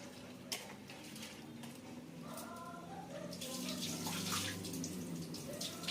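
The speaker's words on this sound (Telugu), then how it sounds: "నేను ఇప్పుడు దీన్ని శుభ్రంగా కడుగుతున్నాను" Soaked lentils being washed in water by hand, with steady sloshing and splashing of water that grows busier toward the end, close by in a kitchen.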